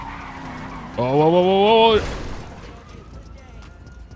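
A car in GTA 5 skids with a rising tire squeal, then crashes with a brief impact, while a man exclaims over it.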